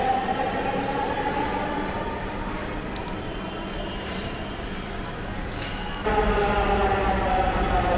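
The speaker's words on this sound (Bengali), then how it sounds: "এই যে চলে এসেছে আমাদের রেল" A Dhaka metro rail train pulling into a station, a steady rumbling roar that swells louder near the end as it draws close, heard from the platform with voices in the background.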